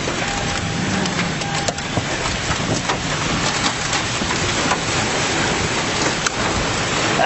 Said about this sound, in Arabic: عاصفة غير عادية